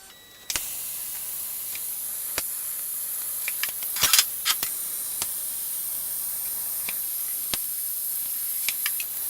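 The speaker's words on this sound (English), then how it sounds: "we're going to go ahead and tack the second one together." Tack welds joining steel pieces for a turbo S10 build: a steady background hiss with several sharp, brief crackling bursts spread across the span, a dense cluster in the middle and isolated snaps before and after.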